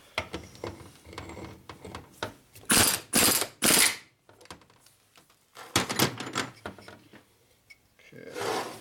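A ratchet tightens a fastener on a rebuilt Harley shovelhead transmission during assembly of a 1967 74ci FLH, sounding as several bursts of rapid clicking, near and fairly loud, with quieter handling noise between them.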